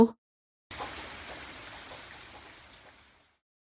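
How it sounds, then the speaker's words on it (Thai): Steady rain falling in the evening, a soft broadband hiss of drops that starts abruptly after a short pause and slowly fades, heard alone with no voices. "อ้าว ฝนตกซะงั้น"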